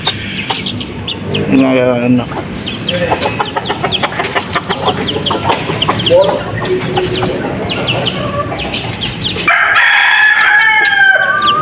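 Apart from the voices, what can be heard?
chickens clucking and rooster crowing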